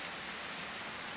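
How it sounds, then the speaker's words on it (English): Steady rain falls in Harvest Moon: Grand Bazaar, a dense, even hiss of rainfall filling the whole moment with no voices. "Another rainy day."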